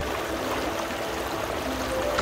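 A small river stream flows steadily past a family campsite in a cool, forested hiking spot, a continuous close rushing and trickling wash with no break and no voices.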